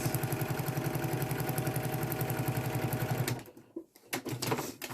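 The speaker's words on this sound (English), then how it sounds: "So I'm just going to sew across." A sewing machine stitches across quilt fabric in a rapid, even mechanical chatter, close and steady for about three seconds, then stops, followed by a few faint handling noises.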